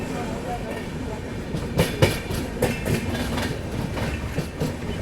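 The Dhauli Express with a WCM3 locomotive rolls along the rails, a steady rumble broken by rhythmic clickety-clack wheel beats over joints, heard from on board.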